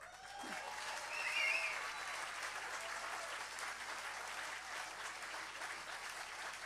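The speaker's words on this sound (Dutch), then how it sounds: "En ik wil daar graag een applaus voor" Sustained applause from an audience honouring volunteers at a Dutch community event: a broad, even wash of clapping at moderate distance that continues steadily throughout, with faint voices or whistles briefly audible early on.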